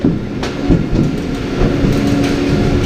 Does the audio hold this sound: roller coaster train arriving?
yes